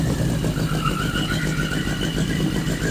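A 1981 Yamaha Maxim 650 motorcycle engine, revived after twenty years unused, runs at a steady, loud, close idle throughout.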